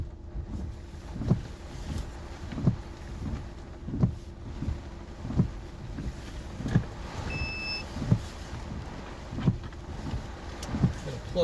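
A strong hurricane wind roars steadily during landfall. Regular, rhythmic thuds and flaps come about every second and a half over a constant low rumble.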